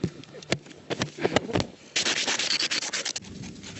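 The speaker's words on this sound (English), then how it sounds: "That's the sound of sand being scraped off my lunch." Sand is scraped off bread baked in desert sand, heard close up as a series of rough, gritty rubbing strokes, first short and separated, then a longer run of quick raspy scrapes.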